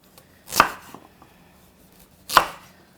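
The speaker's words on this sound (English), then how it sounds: "So carrot, we can cut it" Two separate knife chops through carrot into large chunks on a cutting board, each a sharp close thud spaced over a second apart, with quiet room between them and no talking.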